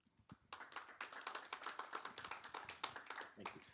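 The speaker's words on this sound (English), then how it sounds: "a round of applause to Doug" Applause from a small workshop audience, rapid individual hand claps building to a steady patter, moderately close and fairly quiet.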